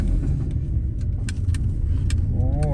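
A car driving along a city street in Russia, with a steady low engine and road rumble throughout, plus a few faint clicks and rattles inside the cabin.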